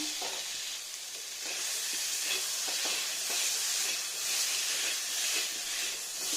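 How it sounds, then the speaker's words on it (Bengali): Salted potatoes fry in oil in a pan with a continuous hissing sizzle, steady and close, with faint stirring scrapes now and then. "এখানে ফ্রাই হবে আলু ভাজাটা"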